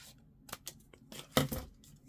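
Scissors snip paper botanical cutouts for junk journal pages, giving a few quiet, close, irregular snips and rustles with one sharper crunchy cut near the middle.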